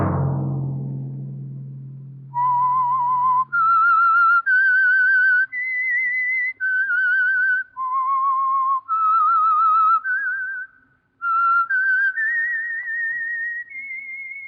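Whistled theme of the 1949 radio drama The Whistler, a lone clear melody of sustained notes with short gaps between phrases, entering after a fading low sound.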